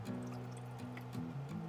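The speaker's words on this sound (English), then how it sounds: "And then we'll just add some water in here" Water is poured into a container to make coffee inside a camper van, a soft, steady, quiet stream with a faint filling tone and no voices.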